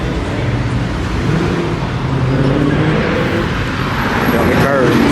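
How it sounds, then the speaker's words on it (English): A Dodge Hellcat or Scat Pack rolls into a Saturday night car meet in Atlanta with a loud, steady engine rumble up close. People talk over the noise. "Oh, like a D-badge Hellcat right there, but it might be a Scat."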